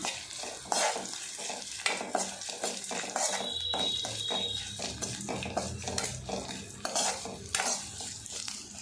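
Onion, cashews and chopped ginger sautéing in a pan for a radish rice dish: a continuous close sizzle with frequent rhythmic clatter of a spatula stirring and scraping against the pan, no speech.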